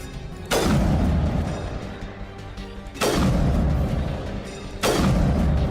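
Enemy gunfire in a video game arrives as three heavy booming blasts about two to three seconds apart. Each blast lands loud and close, then rumbles away into a dense low roar.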